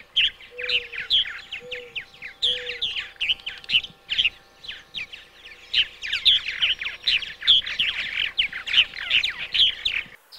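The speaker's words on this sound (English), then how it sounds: "A couple of tree swallows sing in the undergrowth." Several tree swallows sing from undergrowth near purple martin nesting compartments, giving a dense run of bright chirps and twittering phrases throughout, fairly close, with a few lower call notes early on and no talk.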